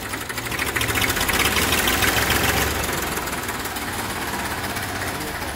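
A 1996 Massey Ferguson 35 tractor in good condition idles close by with a loud, rapid diesel knock. The rattling pulse stays steady throughout, and a broad hiss sits over it.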